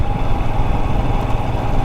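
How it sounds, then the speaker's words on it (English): A motorcycle engine chugs steadily in second gear at low revs without the clutch, a continuous rough, throbbing rumble heard close up on a trail. "Merry little second gear chug, no clutch required."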